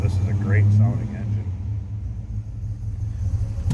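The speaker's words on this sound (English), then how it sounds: "This is a great sounding engine." The engine of a 1964 Oldsmobile Cutlass convertible, with stock exhaust manifolds and no headers, rumbles at a low, steady idle while a person talks over it.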